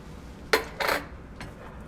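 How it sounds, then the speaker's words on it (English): Canned whole San Marzano tomatoes with their juice go into a cooking pot for lasagna sauce: two close, brief clattering splashes a moment apart, then a softer knock, with no talk. "Next, we're going to add the whole tomatoes with their juice."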